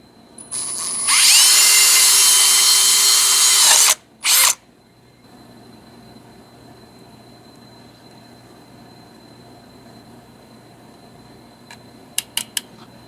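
A power drill bores into a part for a front-mount HEI distributor built for an LS 5.3 engine, one loud continuous burst of about three seconds, then a brief second spurt and a few faint clicks.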